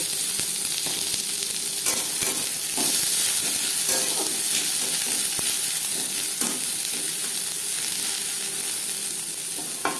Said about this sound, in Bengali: সবার প্রথমে দিয়ে দিয়েছি এক চামচ মতো সরষে পেঁয়াজ ভেজে নেব